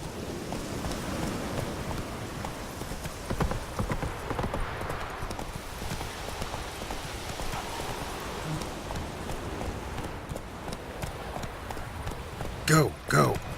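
Roach, the horse in The Witcher 3, gallops with a steady, close clip-clop of hooves over a hissing, rain-like bed of sound. A brief vocal burst breaks in near the end.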